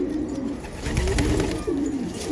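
Several pigeons coo in low, throaty, repeated rolling calls, close by and overlapping, over a faint background hiss.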